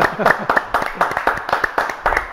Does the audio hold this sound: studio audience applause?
yes